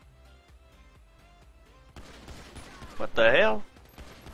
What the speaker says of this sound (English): So backup comes and they shoot at me.